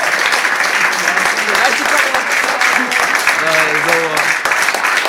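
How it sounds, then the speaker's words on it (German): An audience at a live concert keeps clapping in a steady, dense patter, with voices and some tonal sounds mixed in over it, fairly loud and continuous. "Die hören gar nicht mehr auf zu klatschen"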